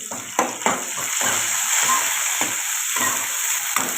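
Chopped onion sizzles in hot oil in a pan while a spoon stirs it, giving bursts of scraping clatter over a steady loud fry, up close with no talk.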